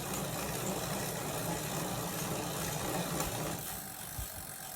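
A Tacx Flux S Smart bike trainer running as a steady, broadband mechanical whir with a faint ratcheting texture, close and continuous, easing slightly near the end.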